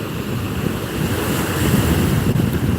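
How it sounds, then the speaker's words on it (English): Ocean waves surge and wash steadily, close and loud, with strong wind buffeting the microphone throughout and no voices. "Oh, look at the waves, guys."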